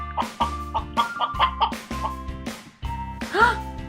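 A chicken clucks in a quick series of short, close, choppy calls, with a brief squawk near the end.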